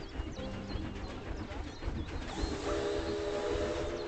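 A train passing in the Planet Zoo video game, a continuous rumbling rail roll with whistle-like tones over it, steady and fairly loud, with a voice speaking beneath it.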